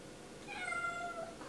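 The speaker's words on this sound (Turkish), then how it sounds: "Herkesin kedisi konuşuyor. Sen de konuş." A British cat gives a single drawn-out meow that rises and holds for about a second, clear and close in a quiet room.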